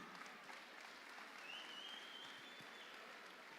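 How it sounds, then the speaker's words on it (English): Crowd applause for two fighters after an MMA cage bout at a Made 4 The Cage event, a steady, fairly distant clapping from the arena audience that holds even throughout. "round of applause for both fighters this evening"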